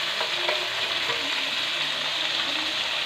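Tomatoes frying and being stirred in a pan in a home kitchen, a steady, close sizzling hiss with faint scraping stirs throughout, no voices.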